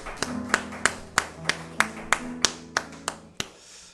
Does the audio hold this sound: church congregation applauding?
yes